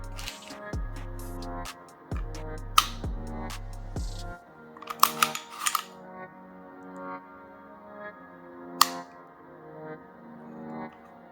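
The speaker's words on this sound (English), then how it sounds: "let me show you the reset on the trigger" A Sig Sauer P320 M18 9mm pistol's trigger is worked to show its reset, producing a series of soft, close mechanical clicks with quiet handling noise between them.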